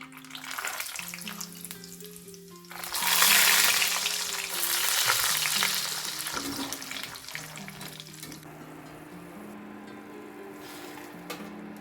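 Peanuts frying in hot oil while making kara boondi, a loud bubbling sizzle that swells as they are added and then settles into a steady crackle, alone without talk.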